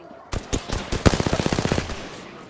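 Automatic weapon fire in the video game Apex Legends: a single shot, then a rapid rattling burst of about a dozen evenly spaced shots, loud and close, ending abruptly.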